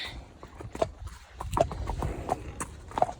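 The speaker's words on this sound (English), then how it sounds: "there you've got these horses loose on the other side" Horses loose in a field, hooves clip-clopping in an uneven series of distinct thuds at moderate distance, fairly faint against outdoor background.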